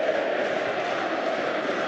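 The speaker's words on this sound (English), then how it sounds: "The crowd are getting right behind the home side here." A large indoor crowd roars steadily at a Champions League women's volleyball semifinal between Fenerbahçe and VakıfBank, backing the home side with a continuous dense wash of cheering and shouting and no clear breaks.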